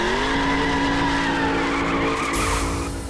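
Car engine from the racing game The Crew holds a steady loud drone with tyre squeal and skidding layered over it, sustained throughout with a brief whoosh near the end.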